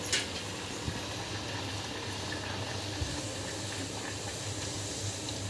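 Rice flour vade are deep-frying in hot oil over a high gas flame, giving a steady, close sizzling hiss with a few faint clicks and knocks from the pan.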